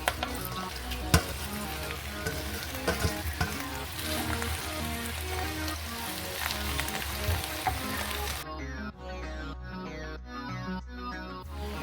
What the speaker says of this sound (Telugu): ఇప్పుడు గోంగూర కూడా వేసుకొని వేయించుకోవాలి